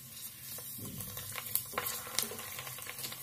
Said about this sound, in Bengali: আর এখন আমি মিডিয়াম টু লো ফ্লেমে ফুচকাগুলো ভাজবো।